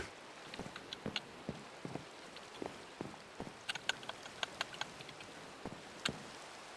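Rain falling in the Minecraft-based game Sky Factory 4, a quiet steady patter with scattered sharp drop ticks spread irregularly throughout, alone with no voices.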